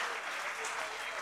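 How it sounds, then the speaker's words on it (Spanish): Church congregation applauding during a sermon, a dense, steady wash of clapping, moderately distant and uniform, with voices faintly mixed in. "Denle ese aplauso al Señor."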